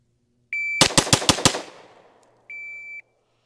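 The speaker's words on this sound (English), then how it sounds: "We're going to test the split times on the Fusion Firearms XP Pro." Five rapid pistol shots from a Fusion Firearms XP Pro ring out in a fast, even string, each a sharp crack, framed by a shot-timer beep just before and another beep after.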